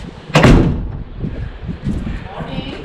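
A back door leading out to a pool area shuts with a single loud thud near the start, followed by quieter room noise and faint speech.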